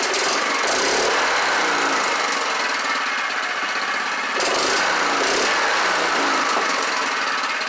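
A Honda engine swapped onto a mini bike runs close by with a loud, rapid small-engine chatter, steady and unbroken at a fast idle, with no talk.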